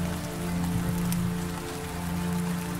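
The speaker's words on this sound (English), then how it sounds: "the rain started to pour" Steady heavy rain pours down across an outdoor scene on a rough country road, a dense continuous hiss with a low droning hum underneath and no voices.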